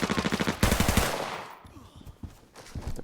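Rapid automatic gunfire with tier 5 ammo in the Arena Breakout mobile shooter, a close burst of fast, loud shots followed by quieter scattered game noises and movement.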